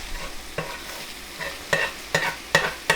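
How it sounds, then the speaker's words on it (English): Ground beef and onion sizzle steadily in a skillet, with several sharp scraping stirs of a utensil breaking through the frying hiss at irregular intervals, close and moderately loud with no talking. "So this beef is going to continue to cook."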